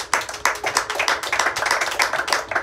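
A church congregation claps together in dense, steady rhythmic applause, many hands striking close and loud throughout with no talk over it.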